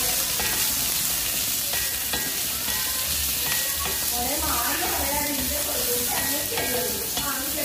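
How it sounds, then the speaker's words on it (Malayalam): Onion, ginger and garlic sautéing in oil for kadai paneer, a continuous close sizzle with repeated scraping stirs of a spoon in the pan. Faint tonal sounds in the background, and no speech. "ഈ സവാള, ഇഞ്ചി, വെളുത്തുള്ളി ഇതെല്ലാം കൂടി നമ്മൾ ഈ എണ്ണയിലേക്ക് ഇട്ടതിന് ശേഷം നല്ലതുപോലെ ഒന്ന് വഴറ്റിയെടുക്കുക"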